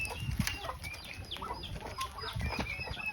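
Farm chickens and turkeys in a rural countryside yard, with scattered clucks, short calls and a burst of wing flapping over steady outdoor background noise, no talking.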